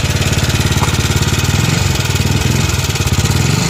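A Yamaha NMAX version 1 scooter engine runs loudly and steadily at a rough, rapid idle, its throbbing drone filling the whole stretch.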